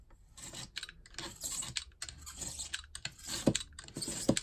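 A blade scoring through ceramic tile for a palette, giving close, quiet scratchy rasping strokes in short uneven bursts with no talking.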